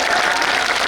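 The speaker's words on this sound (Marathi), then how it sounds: "त्यांच्यासाठी एकदा जोरदार टाळ्या वाजवा" Loud, dense applause from a crowd at a protest rally in Sambhajinagar, a continuous close roar of clapping throughout.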